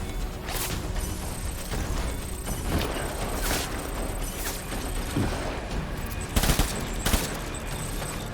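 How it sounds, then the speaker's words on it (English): Enemy gunfire aimed at the player in Death Stranding, bursts of sharp cracks scattered across the clip at varying distances and intensities, with a busy rattling game soundscape underneath. "me están cagando a tiros de una manera"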